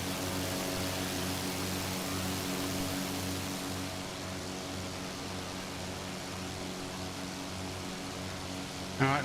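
Small propeller plane in Microsoft Flight Simulator, a steady droning engine hum with constant tonal whine, continuous and fairly loud, slightly softening midway with a brief thump at the end.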